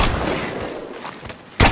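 Gunfire in the mobile battle royale game Apex Legends Mobile, a dense, noisy rush of shots that fades slightly before a sharp loud blast at the end, heard with no voices.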